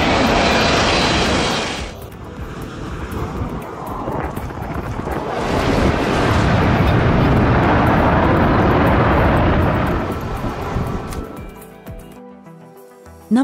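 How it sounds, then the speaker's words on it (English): A Wizz Air Airbus A321neo jet comes in to land very low over spectators at an airport, a loud, sustained roaring rush of engine and air noise that swells, lingers for several seconds and then fades away. "Wizz Air's Airbus A321neo executed an eye-catching landing at Skies Airport, gliding just feet above the heads of plane spotters."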